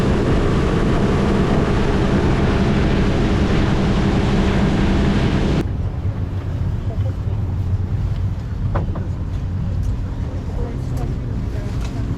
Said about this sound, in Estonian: Vaata, kui võimsad 2 mootorit.